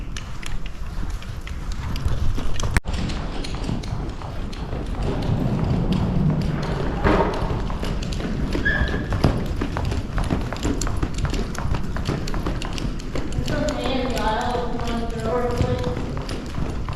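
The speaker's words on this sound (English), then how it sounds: "This is called a posting trot, where I'm going up and down with the horse." A horse trots steadily under a rider doing a posting trot, with rhythmic clip-clop hoofbeats and thuds running continuously and close, while a voice talks over the hooves at times.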